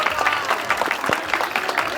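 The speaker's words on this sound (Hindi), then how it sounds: "जोरदार तालियां।" Loud, sustained applause from an audience at a Shri Krishna Janmashtami devotional program, dense clapping running steadily throughout with a faint background voice.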